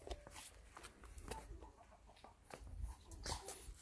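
Chickens at a rose festival garden in Sancheong give faint, irregular clucks and squawks in a busy outdoor setting, with other animal and background noises around them.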